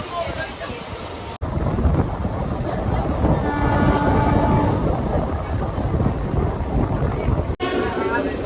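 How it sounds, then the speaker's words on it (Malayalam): The Shoranur–Nilambur passenger train pulls into the station, its loud sustained rumble and rolling wheel noise filling the scene, with a faint tonal whine from the carriages and muffled voices on the platform. "അപ്പോൾ നമുക്ക് പോകാനുള്ള ട്രെയിൻ വന്നിട്ടുണ്ട്."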